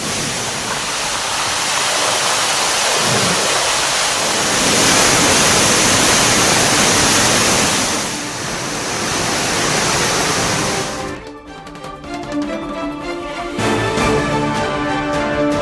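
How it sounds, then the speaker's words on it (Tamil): Floodwaters roar down Aliyar Kavi Aruvi waterfall in the Western Ghats after heavy rain, a loud, steady broadband rush that fills the first eleven seconds before giving way to other sound. "மேற்கு தொடர்ச்சி மலைப்பகுதியில் பெய்து வரும் மழை காரணமாக ஆழியார் கவியருவியில் வெள்ளப்பெருக்கு"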